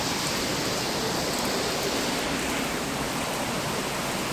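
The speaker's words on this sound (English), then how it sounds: "Rain's coming down." Steady rain pours outdoors at a Bahamas resort water park, a dense, even wash of hiss filling the whole stretch at moderate loudness with no voices over it.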